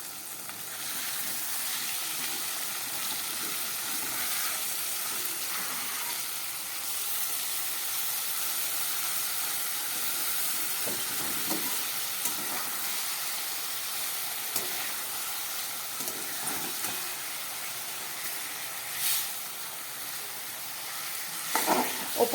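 Katla fish masala frying in a pan just after the lid comes off, a soft, steady sizzle and hiss with occasional stirring clinks and scrapes growing toward the end, no talking.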